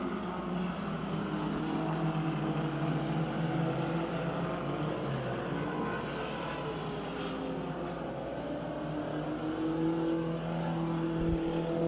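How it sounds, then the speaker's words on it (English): Pure Stock 4-cylinder race cars circle a dirt-track oval at County Line Raceway under caution during a heat race, a steady blend of engine drone and passing motors at moderate distance with no talking. "So we are under caution 2 laps into this 5-lap heat race for our Tidewater Energy Pure Stock 4-cylinder division."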